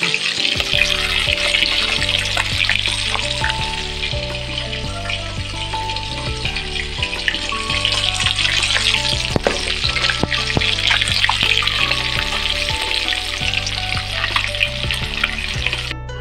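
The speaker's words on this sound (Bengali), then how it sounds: "তরকারি করবার জন্য প্রথমে আমি মাছগুলো ভেজে নিচ্ছি" Pieces of local rohu fish fry in hot oil in a pan, a steady, dense crackling sizzle with scattered pops that runs unbroken and loud throughout.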